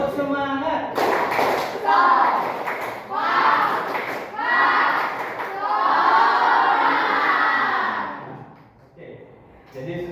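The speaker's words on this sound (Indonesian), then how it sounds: "Tepuk semangat." A school class performs a rhythmic clapping chant together, bursts of sharp synchronized claps alternating with loud children's group shouting in several rising phrases, close and energetic before a short quiet tail.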